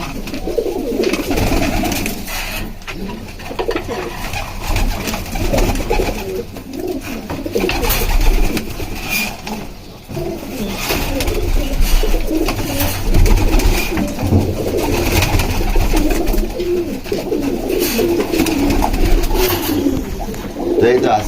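Pigeons coo on a hot rooftop, a steady, close chorus of soft, repeated throaty calls running throughout while a person talks over them.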